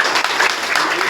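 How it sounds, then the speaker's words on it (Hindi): Steady applause from a crowd fills the whole moment, dense and continuous clapping with no pauses. "तो मैं इनके लिए चाहूँगा कि आप तालियों के साथ बहन जी का"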